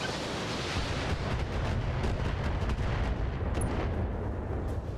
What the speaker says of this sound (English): And fire the missiles!